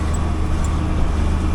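An old tractor downshifts while spreading a DAP, potash and ammonium sulfate fertilizer blend, giving a steady, loud low engine drone that fills the whole short stretch with no talk.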